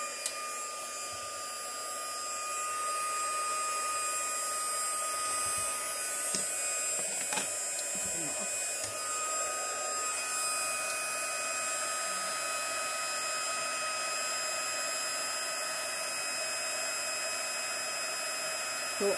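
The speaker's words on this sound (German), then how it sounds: "Dann lasse ich meinen Föhn vorlaufen." A hair dryer blowing hot air to heat and melt clear powder on floor tile, a steady loud whirring drone that runs on without a break, with a few small clicks near the start.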